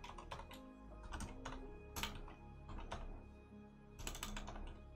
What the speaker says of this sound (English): typing this is really annoying in chat